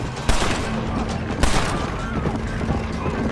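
Gunfire in the Western video game Red Dead Redemption, a few sharp close shots over a busy background of rattling, with brief voices.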